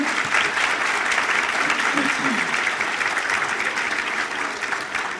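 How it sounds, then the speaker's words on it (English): A breakfast room full of businesswomen breaks into sustained applause, a thick, continuous roar of many clapping hands that holds steady at full volume and eases slightly toward the end. "So a big round of applause for yourselves, everyone else here."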